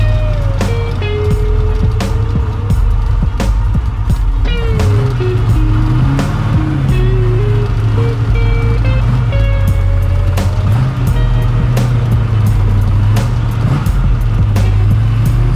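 A manual Camaro's engine hums and revs while driving, pitch shifting through gears, with road rumble and occasional clicks and knocks from inside the cabin.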